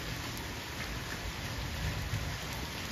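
Heavy rain pours down in Punjab, a dense, steady hiss of drops hitting surfaces that stays constant and close with no voices.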